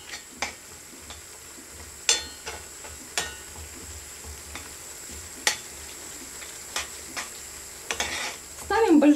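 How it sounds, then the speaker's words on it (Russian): Meatballs of minced beef in a sour cream sauce are stirred in a pan, giving sparse scraping clicks and taps of a utensil over a soft simmering hiss, with a louder clatter at the end. "Перемешиваем."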